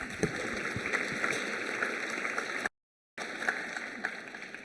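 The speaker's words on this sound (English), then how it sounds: "One more round of applause." Graduation ceremony audience applauding in a hall, a sustained round of clapping with scattered louder claps, briefly cut by a moment of silence before it resumes.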